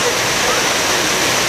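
Kuang Si waterfall, a tall cliff cascade, roars with a loud, continuous close rush of falling water filling the whole moment.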